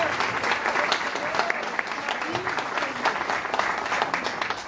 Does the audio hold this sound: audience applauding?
yes